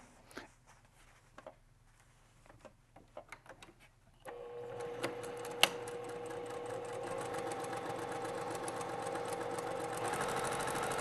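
Domestic sewing machine stitching quilt pieces for a star quilt block, starting with scattered handling clicks, then a steady close whirring run of the motor and needle from about four seconds on, growing slightly louder toward the end.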